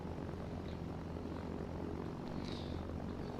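A propeller plane engine drones steadily in the Arma 3 video game, flying over the tropical island of Tanoa with a continuous, even roar at moderate level and no talk.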